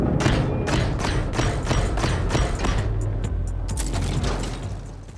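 Heavy Leonardo da Vinci style cannon fire in the video game Steel Rats, a continuous rumbling barrage of booming thuds and mechanical clatter, loud and close with no gaps.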